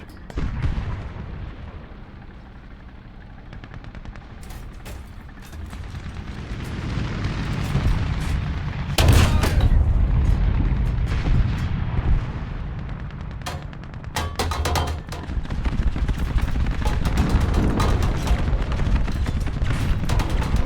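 Tank cannon fire in War Thunder: heavy booming shots, with one big blast midway and another a few seconds later, standing out above a constant low rumble of engines and battle noise.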